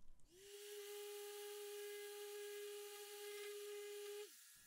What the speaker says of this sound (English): I can just sand away the excess using my orbital sander.